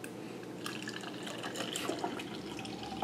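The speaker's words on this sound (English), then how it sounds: "But I'm just gonna pour it into the glass." Mixed fresh juice pours from a Breville Ikon juicer pitcher into a glass, a steady close liquid splash and trickle with a few drips, running continuously without talk.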